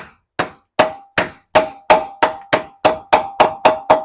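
A metal dust cover on a Jeep Dana 20 axle takes a dozen sharp, evenly spaced hammer taps, each a bright ringing clang that decays quickly, loud and close with no voices.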